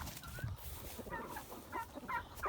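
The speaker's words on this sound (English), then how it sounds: "Some of these are Narragansett and some of them are broad-breasted bronze." Narragansett and broad-breasted bronze turkeys in a homestead coop gobble faintly, a few short warbling calls rising over a steady background hum.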